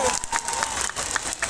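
Audience clapping at an outdoor jatra stage comedy show in Phulbani, Kandhamal, a dense wash of applause and crowd noise, with a voice over it.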